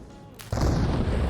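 A demolition charge detonates in the military game Arma Reforger, a sudden loud boom that cuts in after quiet background and rolls on as a sustained rumble.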